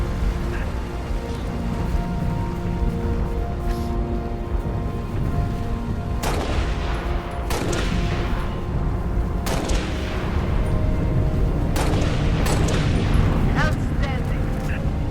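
Gunfire rings out in the Halo: Reach campaign on Legendary, with several sharp, loud bursts standing out over a dense, continuous bed of battle noise and game sound, while a voice speaks intermittently.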